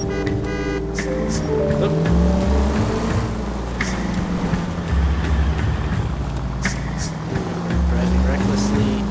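A car races through city streets in the L.A. Noire video game, its engine droning steadily with shifting pitch throughout, with occasional sharp game effects on top and a brief spoken exclamation.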